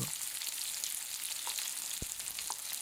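Green bell pepper frying in a pan, a loud continuous sizzle with a faint tap or two of a utensil, close up and with no voices.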